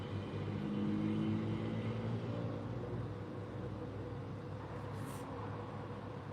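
Low, steady engine drone of an airplane passing overhead during a military drill, a broad rumble that holds evenly throughout, fairly distant and with no speech.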